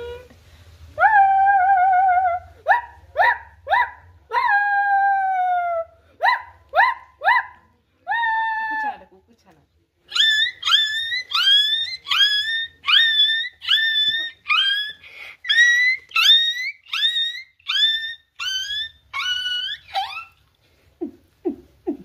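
A voice mimics a dog, giving a run of short yelping barks followed by a long series of rhythmic, high-pitched howls and yips, loud and close with brief pauses between bursts.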